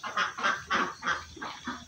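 Ducks in a pen: a quick series of about six nasal quacks in a steady rhythm, fairly close and moderately quiet, with no voices.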